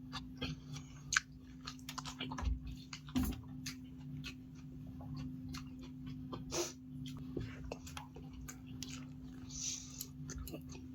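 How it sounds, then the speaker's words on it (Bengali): Someone eats rice quickly by hand, with faint, close, irregular wet chewing and smacking clicks over a quiet low hum, with no clear talk. "আমি তো তাড়াতাড়ি করে খাচ্ছি।"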